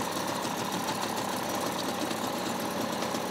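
An outboard motor runs steadily on a PVC fishing boat on the Don in fog, a continuous close mechanical drone without a distinct start, heard alone with no talk.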